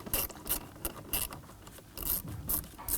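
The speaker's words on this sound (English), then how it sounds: "we're going to use our stubby ratchet" Stubby ratchet fitted with a T25 Torx bit backing out a screw on a 2003-2014 Volvo XC90 interior panel, a series of close, crisp ratcheting clicks in short rhythmic bursts.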